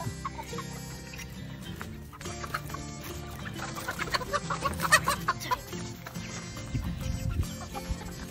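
A Rhode Island Red rooster clucks repeatedly, close and fairly loud, amid busy background sound.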